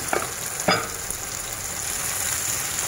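Sliced green and red apples hit a hot pan and sizzle steadily, with a couple of brief clatters at the start as the pieces land, then an even, continuous frying hiss.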